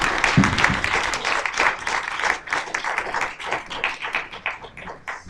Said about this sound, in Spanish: dense un buen aplauso